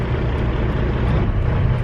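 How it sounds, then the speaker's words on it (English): A Kenworth truck engine runs close by, a loud, steady low rumble with a dense, even diesel throb and no other sounds. "Let's just listen to the truck."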